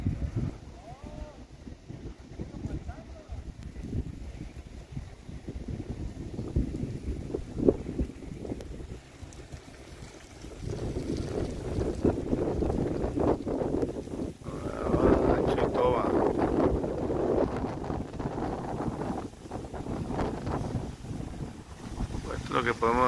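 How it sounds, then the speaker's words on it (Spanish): Strong Pacific wind roars and buffets the microphone in a continuous low rumble, swelling into stronger gusts partway through, while a person talks underneath. "Está fuerte el viento ahorita."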